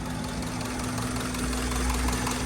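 A used car's engine idles steadily with a low, even rumble and faint knocking, heard close up and alone.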